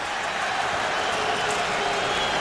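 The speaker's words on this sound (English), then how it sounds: "The crowd comes to life," A hockey arena crowd at an NHL game between the Los Angeles Kings and Carolina Hurricanes gives a steady, broad roar of cheering, loud and continuous throughout with no clear breaks.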